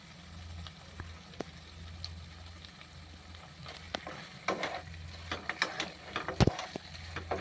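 Mutton and onions sizzle steadily in a pan with oil while a spatula stirs, adding irregular scraping knocks and clacks that grow busier toward the end, close and fairly quiet.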